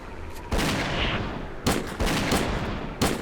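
Gunfire in S.T.A.L.K.E.R., several loud bursts of shots with sharp onsets, clustered and repeated at close range.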